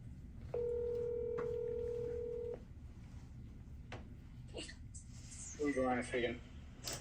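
A telephone being dialed before a call: a steady dial tone holds for about two seconds, followed by a few short key-press beeps, then a brief quick run of clear tones near the end, faint and close over a quiet background.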